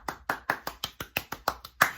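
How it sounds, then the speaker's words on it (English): A small group claps in a brisk, even rhythm, about ten sharp, close bursts over two seconds with no voices, the final clap landing loudest. "Give yourselves a round of applause."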